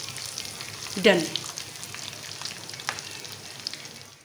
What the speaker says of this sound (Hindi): अब थोड़ा सा हम इसे फ्राई करेंगे और उसके बाद तड़का दाल में लगा देंगे